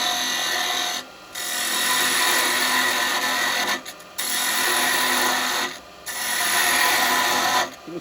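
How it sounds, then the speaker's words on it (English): A parting tool cutting into wood spinning on a lathe for a Christmas smoker, a continuous close rasping scrape broken by three or four brief pauses. "I'm going to get my parting tool"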